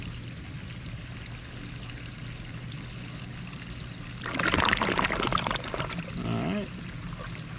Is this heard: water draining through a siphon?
yes